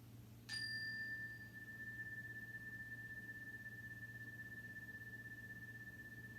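A chime is struck once with a sharp metallic onset, then a single clear tone rings on and slowly fades over several seconds in a quiet classroom setting with a steady low hum underneath and no talking.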